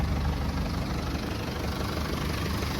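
A 1981 Jeep CJ7 with a 2400 cc diesel engine idles nearby, giving a loud, continuous rough rumble with a steady clattering knock and no pauses.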